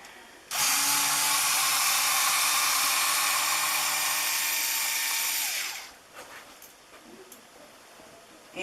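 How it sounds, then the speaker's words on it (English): A drill press bores a hole for a screw while building a camera mount for an RC drift car, giving a loud, steady high-pitched whine for about five seconds that then cuts off, followed by quiet handling noises. "Now we are back at the drill press."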